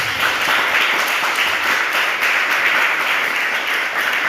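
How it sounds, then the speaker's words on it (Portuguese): Church congregation applauding loudly after a Bible reading, a dense, even roar of many hands clapping that fills the whole stretch without pause. "aplauda com toda a força"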